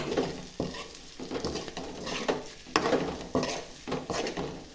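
Fried eggs for an egg masala curry are stirred in a pan, the spoon scraping in repeated, rhythmic strokes over a continuous close sizzle.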